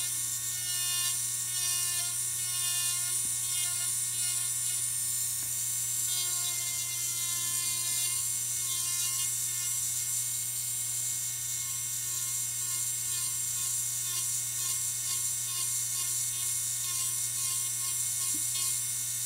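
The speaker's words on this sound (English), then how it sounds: "this one I'm going to take off the length with the tip of this burr" A nail drill burr files down the length of a toenail, giving a steady high-pitched electric whine with a constant motor hum beneath it that runs unbroken and close, with no speech.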